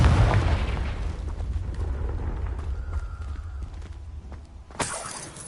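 The Confringo blasting spell detonates in Hogwarts Legacy with a loud booming, shattering explosion that rumbles and slowly fades, followed by scattered debris crackles and a brief sharp burst near the end.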